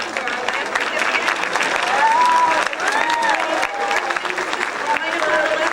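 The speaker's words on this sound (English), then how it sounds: "a round of applause for our last recipient" An audience at a high school academic letters night applauds an award recipient, with dense, loud clapping and some cheering lasting throughout, plus voices in the crowd and a few whistles.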